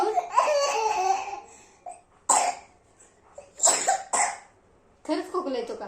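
A young child coughs in several short bursts, close and loud, with breathy laughing sounds mixed in and a brief quiet between fits.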